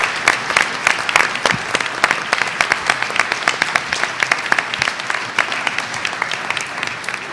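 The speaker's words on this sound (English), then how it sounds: "Let's give him one more big round of applause." Audience at a school board meeting applauds, a lively round of sharp, distinct hand claps close by, continuing for about seven seconds with a slightly uneven rhythm.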